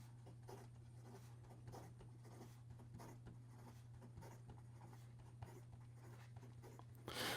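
Fast writing with a Benu Talisman fountain pen with an extra fine nib on paper: soft, quick scratching strokes in short bursts over a steady low hum, faint and close, ending in a brief louder rustle.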